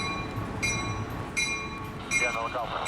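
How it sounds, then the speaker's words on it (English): Amtrak Pacific Surfliner train at Fullerton station: a few short tonal horn or squeal notes ring out over a close, steady rail rumble. "immediately caught Amtrak 581 Pacific Surfliner with service"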